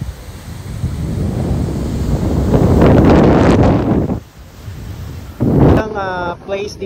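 Gusty wind batters the microphone on a mountain trail near Lemphrontep Cave in Phuket, rising into a heavy roar then dropping away; a voice speaks briefly near the end.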